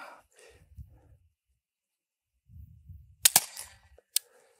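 A PepperBall TCP self-defense launcher powered by CO2 fires once with a sharp pop, followed by a second smaller crack, after a stretch of quiet breathing and rustling.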